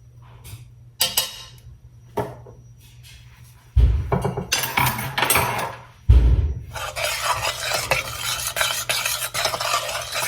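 Brownie batter mixed with a teaspoon of vanilla extract in a bowl, loud close spoon strokes scraping and sloshing, starting with a few separate scrapes and building into steady continuous stirring with occasional clinks, no one talking.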